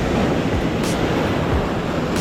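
Steady roar of ocean surf washing onto the shore at Pass-a-Grille, Florida, continuous broadband rush with a brief hiss of foam, wind noise mixed in.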